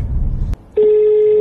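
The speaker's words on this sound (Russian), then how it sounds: "Ну что, пора звонок сделать холодный." Telephone dialing before a cold call: a short click, then a loud steady touch-tone dial tone held alone and close.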